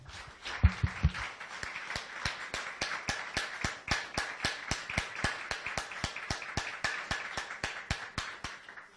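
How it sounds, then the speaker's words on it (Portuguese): Worshippers in a church clap together in a brisk, regular beat, crisp and close, with a brief bit of voice near the beginning before the hand claps carry on steadily. "Vamos dar uma salva de palmas bem bonita para Ele."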